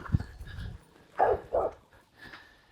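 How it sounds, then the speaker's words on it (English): Two dogs bark at someone on an uphill mountain road, a low yelp first and then a pair of loud close barks, with a fainter yip near the end. "2 dogs barking at me"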